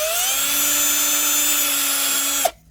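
A power drill whines at high speed, its pitch rising then holding steady, loud and close, before the motor abruptly cuts off.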